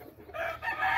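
Game hens in a hatch pen give a brief, close clucking call over a low background hum.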